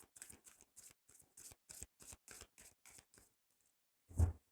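Tarot cards are riffled in a quick run of about a dozen short, evenly spaced flicks, then a pause before one louder card slap or draw, close and quiet with no talk.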